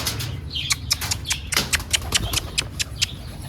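Rapid flurry of wing flaps from several pigeons released together, loud and close, over a low rumbling background.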